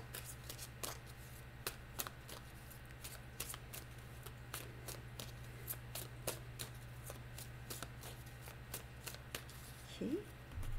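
Tarot cards being shuffled, a steady run of crisp riffling snaps and flutters that continues for several seconds over a low constant hum, close and clear.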